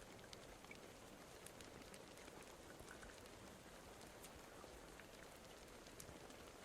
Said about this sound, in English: At least the rain sounds nice.